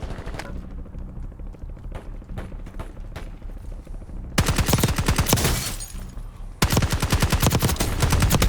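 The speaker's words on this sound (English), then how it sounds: "It's a single fire gun." Single-fire shots crack out in Call of Duty Warzone, first as sparse distant pops, then as loud rapid bursts of close gunfire under game sounds.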